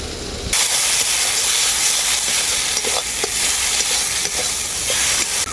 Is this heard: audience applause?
no